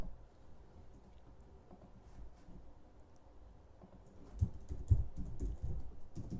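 Python code being typed on a computer keyboard, quiet close-up key clicks in an uneven patter that grows busier and louder toward the end, with no talking.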